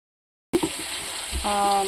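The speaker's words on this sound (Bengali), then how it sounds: "চিংড়ি মাছগুলো হালকা ভেজে দিয়ে তারপর তুলে নেব" Prawns hit hot oil and sizzle lightly, a sudden onset that settles into a steady, close crackle, with a brief voice-like tone near the end.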